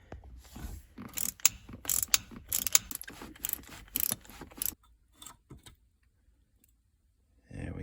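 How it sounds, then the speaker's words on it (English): Ratchet loosening shifter bolts on a 1997 Mustang Cobra, rapid close clicking bursts in a row, then a pause with a few faint clicks and brief talk. "we're going to take these 4 bolts out"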